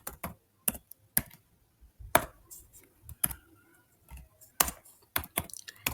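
Code is being typed on a computer keyboard in quick, irregular bursts of crisp key clicks with short pauses between them, close and fairly quiet, with no talking.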